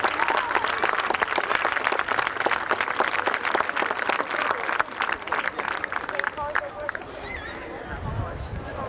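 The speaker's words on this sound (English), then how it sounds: "Let's hear a nice round of applause for them" A crowd at a 1992 recreation league opening day parade and ceremony claps in steady, dense applause that thins toward the end, with a voice speaking over it.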